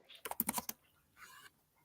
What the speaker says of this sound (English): Good old keyboard ASMR,